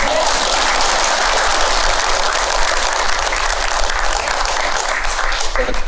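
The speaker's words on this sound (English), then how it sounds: "Give her a round of applause." A large crowd at a political rally gives a sustained round of applause, dense and loud throughout, with cheering mixed in and no break in the clapping.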